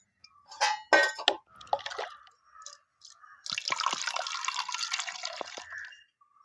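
Half a litre of water is poured into a one-litre cup in short clinks and splashes, followed by a steady, bubbling stream filling it for a few seconds.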